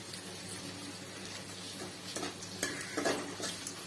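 Onions for a mutton curry frying in a pan, a quiet steady sizzle under light stirring and a few soft clinks of a spoon against the pan.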